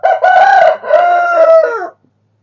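A rooster lets out a single loud, close crow in two drawn-out phases, then falls silent.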